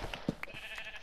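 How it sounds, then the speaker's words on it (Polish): Sheep bleating in Minecraft, a few short nasal bleats in quick succession, fairly quiet with no talk over them. "To sobie tutaj owieczkę widzę."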